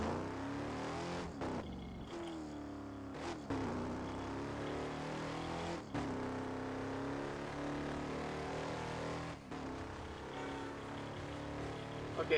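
A Chevy Camaro driving in the racing game Burnout Paradise, its engine droning with pitch sweeping up through gear changes, broken by a few sharp transient hits, with faint speech underneath.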